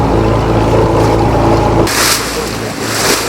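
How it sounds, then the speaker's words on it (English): Sailboat motoring across Lake Erie toward Erie, Pennsylvania: a steady low engine drone with water rushing along the hull and wind, continuous and fairly loud, shifting to brighter hissing spray partway through. "Just going to keep motoring."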